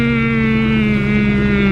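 A small car engine drones steadily at high, even revs with a buzzing harmonic whine, loud and close, holding without pause.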